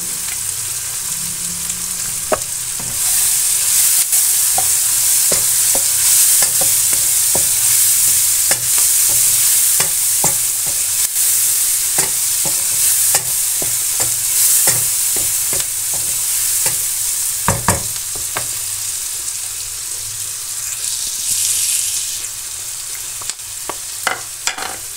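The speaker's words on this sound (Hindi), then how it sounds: "सारा जो हमने ये मसाला बनाया है इसको अपने भून लेना है" Onion, tomato and masala spices frying together in a pan for tadka moong dal, a steady close sizzle broken by frequent scraping and clinking stir strokes throughout.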